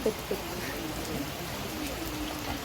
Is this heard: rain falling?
yes